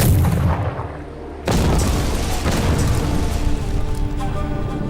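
A cannon fires in a wartime battle scene, a sudden loud boom bursting in after a low rumble and trailing into a sustained roaring wash of noise.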